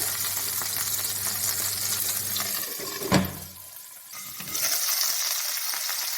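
Chuno fish paturi, small fish parcels, fry in a pan with a steady close sizzle and hiss. A single clunk partway through marks a parcel being turned, then the frying noise carries on alone without voices.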